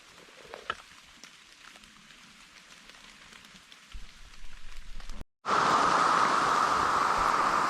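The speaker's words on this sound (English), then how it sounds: "I can't describe the feeling you get walking through the rain in the woods" Rain falling in the woods on the Ozark Highlands Trail: a quiet outdoor stretch gives way abruptly to a loud, steady, close hiss of rain that continues to the end.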